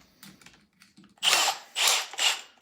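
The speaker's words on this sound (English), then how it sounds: "when you start out the drilling, start it out slow so you don't, again, it doesn't chip the wood" A power drill bores a hole in a wooden drawer for new hardware, starting slowly with soft clicks before three loud, close whining bursts of cutting.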